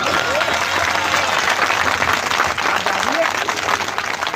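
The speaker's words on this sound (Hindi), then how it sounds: "अब इसे तालियों में तब्दील कर दो।" A crowd applauds loudly and steadily for several seconds, a dense wash of clapping with faint voices mixed in.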